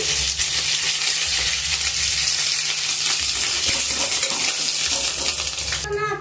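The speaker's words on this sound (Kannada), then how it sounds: "ಕರ್ಬೇವು ಹಾಕ್ತಾ ಇದ್ದೀನಿ" Curry leaves hit hot oil with mustard seeds for a spicy egg stir-fry, producing a loud, dense crackling sizzle with scattered sharp pops throughout and no speech.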